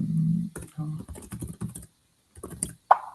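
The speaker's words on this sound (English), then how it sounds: "I hear you typing" Quick bursts of keyboard typing with irregular clicks and short pauses, one sharper tap near the end, over a little faint talk.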